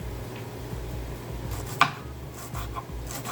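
A knife chops green onion on a cutting board, giving a few soft, scattered cuts with one sharper knock near the middle, close and fairly quiet.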